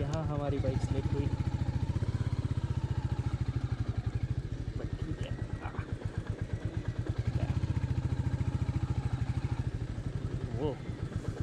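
A Royal Enfield Meteor 350 motorcycle thumps along steadily on a slippery dirt forest road, its engine pulse close and continuous while a rider talks over it.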